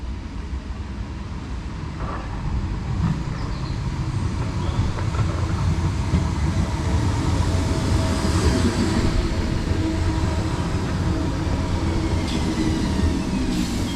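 Southern train service to Seaford pulling into a station on the Sussex coast, a loud steady rumble of wheels and carriages with brief higher squeals, sustained and close throughout with no talking.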